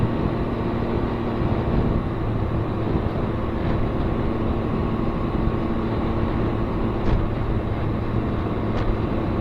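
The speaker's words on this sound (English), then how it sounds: "The Ryker seems to be handling this road milling very well." A Can-Am Ryker three-wheeler carrying two riders rolls over milled road surface, giving a constant rumbling drone of engine, wind and tire roar that stays loud and unbroken throughout.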